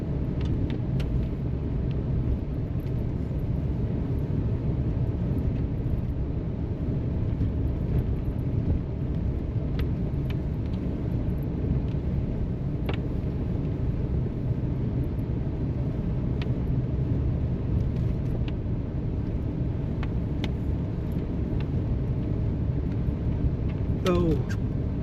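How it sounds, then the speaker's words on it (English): A truck's engine holds it back on a downhill forest road in second gear, a steady low rumble with continuous drivetrain drone and occasional bumps and rattles throughout. "I'm gonna put it down in second gear and just let the truck hold us back."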